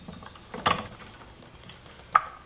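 Two brief metallic clicks, about a second and a half apart, as the Sync Notcher 180 Jr. tubing notcher assembly is tightened, close and otherwise quiet.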